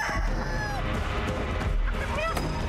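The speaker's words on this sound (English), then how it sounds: "It's just a chicken!" Rooster crowing and hen clucking in the horror game Chicken Feet, several rising calls and squawks close by, mixed with bursts of noise and a player talking over them.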